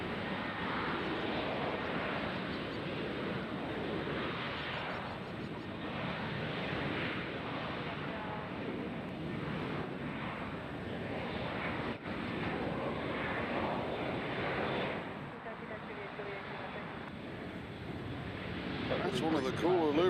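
Alaska Airlines airliner at Nashville airport, a distant, steady jet engine roar with wind noise that swells slightly at the end while people talk.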